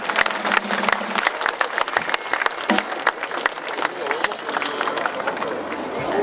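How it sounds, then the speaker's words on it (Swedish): Dense, sustained applause from a concert audience at a show in Mellerud in 2005, a crowd clapping loudly and steadily for several seconds with a faint murmur of voices. "Det är värt en applåd i sig, tycker jag."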